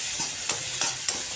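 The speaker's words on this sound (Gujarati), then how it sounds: "ડુંગળી સરસ સતરાઈ ગઈ છે" Sliced onion sautéing in a pan with mustard seeds, cumin and asafoetida, giving a steady close sizzle broken by three short stirring scrapes, with no talk.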